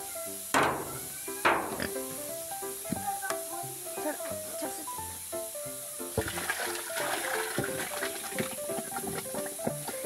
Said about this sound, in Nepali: गाउँको मौसम चाहिँ धुम्म अनि सिरसिर पानी